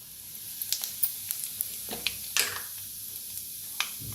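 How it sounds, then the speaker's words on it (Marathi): Half a spoon each of mustard seeds and cumin hitting hot oil in a kadhai, a steady hiss dotted with irregular sharp pops and crackles, close by and without talk. "त्याच्यात टाकूया अर्धा चमचा मोहरी, अर्धा चमचा जिरं"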